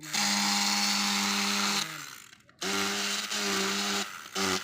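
A vibrating tool setting tiles in place of a hammer during plastering work on a construction job in Japan buzzes loudly and steadily in several bursts. There are short pauses between them and a brief break in the middle.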